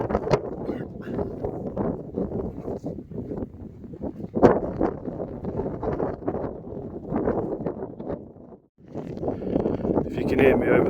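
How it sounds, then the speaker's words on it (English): Wind buffets the microphone on an exposed hilltop in the Lake District, a constant rough rumbling roar that swells and gusts, briefly dropping near the end before rising again. "If you can hear me over the wind"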